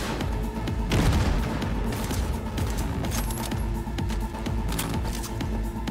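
Grenade explosions and gunfire in the video game Cyberpunk 2077, a dense, loud run of booms and rapid shots with scattered metallic clinks throughout.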